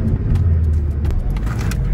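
Turbocharged Mazda Miata NC with a Flyin' Miata turbo kit and stock exhaust and catalytic converter, heard driving as a steady, loud low engine rumble that fills the whole stretch without pause.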